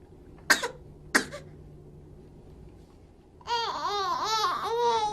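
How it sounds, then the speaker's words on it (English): A baby gives two short, sharp fake coughs close by, then breaks into a whiny, babbling vocal cry after a brief pause. "she does a fake cough with her mother"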